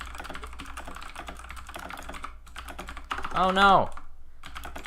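Rapid keystrokes clatter on a Razer BlackWidow Chroma V2 mechanical keyboard during a typing race, steady and close throughout, briefly joined by an exclaiming voice.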